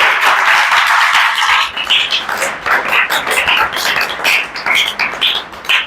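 A church worship audience claps loudly together, a dense, fast patter of many hands that swells and ripples unevenly for several seconds.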